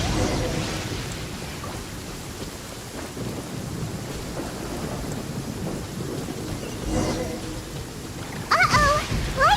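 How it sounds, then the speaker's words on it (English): A lightning storm rolls through in Genshin Impact: dense rain hiss and deep, sustained thunder rumble fill the scene, with a brief chirpy game sound near the end. "Uh-oh! Lightning storm!"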